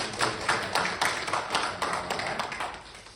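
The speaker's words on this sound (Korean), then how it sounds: "우리 환영의 박수" A church congregation gives a visitor a welcoming round of applause during a Sunday service, a brief burst of many hands clapping in a fairly even, pulsing rhythm, with no voices.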